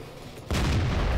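A tank gun fires in the video game World of Tanks, likely from an M41: after a quiet moment a single loud, close boom erupts and rolls on with a deep, sustained rumble.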